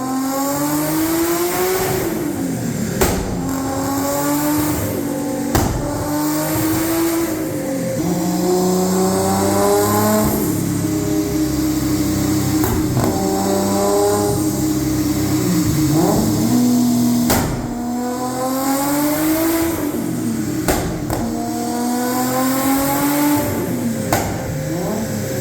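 A Nissan R34 GTR V-Spec II, tuned to about 700 horsepower, is heard loud and close while driving. Its engine revs climb and fall repeatedly through gear changes, with brief breaks between pulls and no talking.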